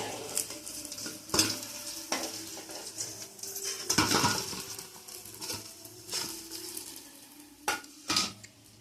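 Fish chops frying in oil give a soft sizzle under recurring clanks and scrapes of a utensil against the pan, with a few sharper knocks near the end.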